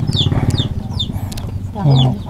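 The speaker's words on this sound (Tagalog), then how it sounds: "Alam, may manok." Chickens cluck in short repeated bursts close by at a mountain home, with sharp higher calls between them and a voice talking briefly underneath.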